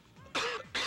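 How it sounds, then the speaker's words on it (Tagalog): Two sharp, fairly loud coughs from a person nearby, the second following closely after the first, in a comedic indoor scene. "Oh, inuubo ka yata."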